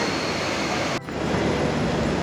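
A train sits at a railway platform with a continuous broadband rumble and hiss, briefly dipping for a moment before resuming at the same steady, fairly loud level; no talking.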